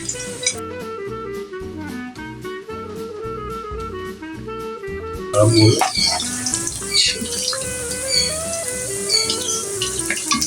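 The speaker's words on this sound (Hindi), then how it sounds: "ये मैंने ऑयल को गर्म करने रख दिया है ताकि हमें अब करना है चिकन को फ्राई" Chicken pieces for chilli chicken drop into hot oil, and a loud, dense sizzle and crackle surges midway and keeps going over a steady, rhythmic background of musical tones.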